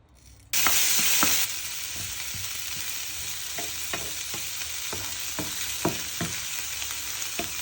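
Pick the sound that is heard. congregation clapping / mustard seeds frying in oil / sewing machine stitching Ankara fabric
mustard seeds frying in oil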